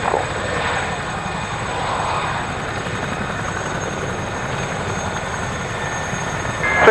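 Three Gazelle helicopters lift off at an airshow, their rotor and turbine noise a loud steady drone with a constant high whine that holds throughout and swells slightly at the end.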